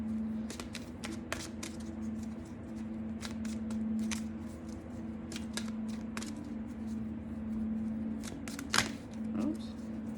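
Repeated riffling and snapping of a deck of cards being shuffled, quick crisp bursts over a low steady hum, close by.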